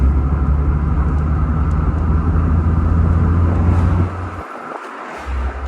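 A 1989 Turbo Lebaron GTC with a turbocharged engine drones loudly and steadily while driving, then the engine note drops off abruptly with a brief fluttering dip before picking back up.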